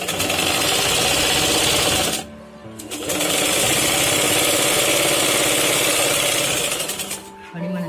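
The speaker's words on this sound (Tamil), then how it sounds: "இதுக்கு மேல ஒரு படிமான தையல் போட்டுருவோம்." Sewing machine stitching fabric, running in steady loud bursts with a brief pause near the middle and another near the end.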